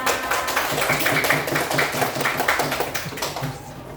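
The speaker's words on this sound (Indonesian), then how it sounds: "Tepuk tangan dong buat kita semua" A third-grade primary school class claps hands together, a dense, continuous patter of many small hands that fades slightly toward the end.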